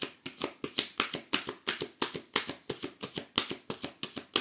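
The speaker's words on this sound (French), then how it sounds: "on prend quelques cartes avec l'oracle de Juju" Oracle cards shuffled by hand, a steady, brisk run of sharp papery snaps about four per second, close-up and clear with no talk.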